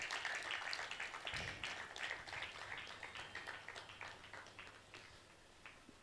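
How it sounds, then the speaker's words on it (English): An audience at an agribusiness event claps in a sustained round of applause, dense at first and gradually thinning and fading toward the end. "a round of applause for her"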